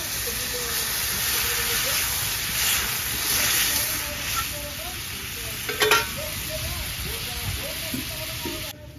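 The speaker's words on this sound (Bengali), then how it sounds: "আমি এবার পরিমাণ মতো জল দিয়ে দেবো" Water poured into a pan of fried spices for a small-fish chorchori, giving a loud continuous steamy hiss and bubbling sizzle that stays steady throughout, close up, with no talking.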